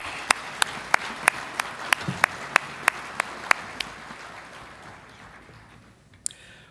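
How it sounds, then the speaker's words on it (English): An audience at a bus and motorcoach driver competition awards ceremony claps for the drivers in a crisp, regular rhythm, roughly a dozen sharp beats over a soft crowd murmur that then fades toward quiet. "let's give all of our drivers a big round of applause"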